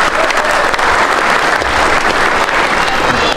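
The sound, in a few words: audience applause for AMKE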